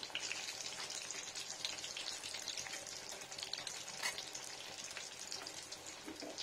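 Potato chops deep-frying in plenty of hot oil give a steady, dense sizzling hiss with fine crackling bubbles, continuous and close, with no voices.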